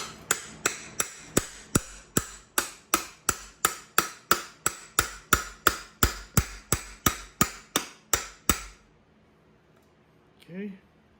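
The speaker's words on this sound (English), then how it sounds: "you're going to use that and a hammer to carefully seat the seal" Hammer striking a socket to seat a hub seal on an EZGO golf cart, about two dozen sharp metallic taps in steady rhythm, close and loud, then a brief voice after they stop.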